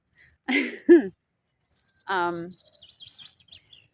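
Birds chirp outdoors in a graveyard, with faint, scattered high tweets in the final seconds after two short voice-like calls near the start.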